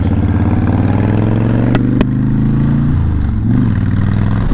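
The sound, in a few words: Honda Fury motorcycle being ridden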